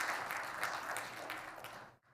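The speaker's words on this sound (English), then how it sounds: "give him a round of applause" Congregation applauding during a church service, a dense wash of many hands clapping steadily at a moderate level for about two seconds before cutting off abruptly.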